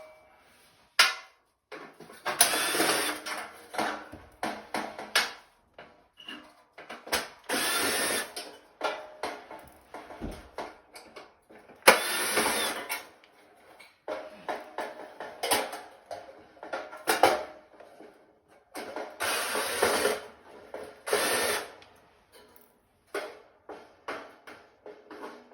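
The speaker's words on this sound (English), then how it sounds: "there's 1, 2, 3, 4, 5, 6, 7 screws we're going to need to take out" Screws being removed from a clothes dryer panel with a power driver, repeated short whirring bursts separated by pauses, close and fairly loud, with occasional clicks between them.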